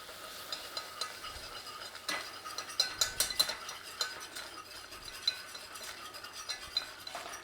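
Flour cooking in a pan for bacon and leek cannelloni is stirred with a utensil, making soft repeated scrapes and light metallic clinks over a faint hiss, close and fairly quiet.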